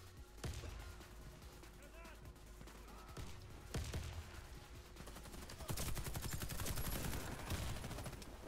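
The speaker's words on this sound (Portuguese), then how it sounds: "quem que tá dando tiro que nem doido" Rapid, repeated video-game gunfire crackles in bursts throughout, a machine-gun-like rattle growing denser and louder toward the end, fairly distant and muffled.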